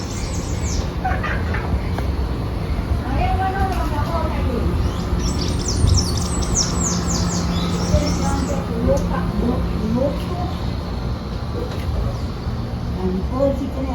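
Small birds chirp and tweet in a backyard garden, with scattered short calls and a brief cluster of high chirps in the middle, moderately faint over a steady outdoor background.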